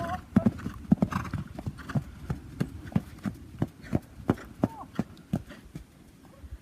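A horse trots in a riding lesson, hooves clip-clopping in a steady, even rhythm of sharp close strikes throughout, with a snort or brief vocal sound early on.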